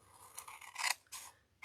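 Scissors cutting book page paper into four-inch squares, a few crisp close snips and slicing strokes in quick succession with a brief pause between cuts.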